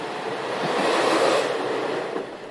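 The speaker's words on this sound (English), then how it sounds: "Just then, the track before us began to hum and vibrate." A train pulls into a station in a story sound effect, a loud, steady rushing rumble that swells and then eases slightly as it draws in.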